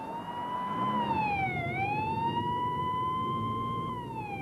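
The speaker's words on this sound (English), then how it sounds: "police cars are roaring up and down with their sirens blaring" Police car siren wailing, a single rising and falling electronic tone sweeping steadily over a constant roar of traffic, moderately distant, no speech.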